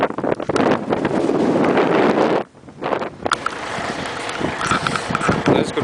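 Strong wind blows outdoors and buffets the microphone with a loud, roaring rumble that eases briefly partway through, then keeps gusting. Voices talk faintly beneath it.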